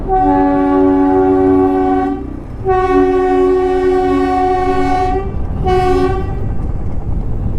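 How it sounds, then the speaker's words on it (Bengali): The Darjeeling toy train moving near the track, its horn sounding three times: a long blast, a second long blast after a short gap, then a brief final toot, over a continuous loud rumble. "এটা হচ্ছে টয় ট্রেন।"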